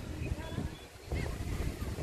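Strong wind gusts blowing hard outdoors ahead of a storm, roaring and buffeting against the microphone in a steady rush with a brief dip in the middle.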